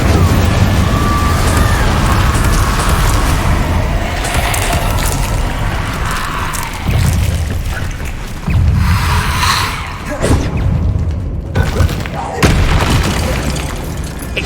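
Incendio fire spells from Hogwarts Legacy burst and roar in loud, dense whooshes with rumbling booms, one after another over a thick backdrop of game noise and voices.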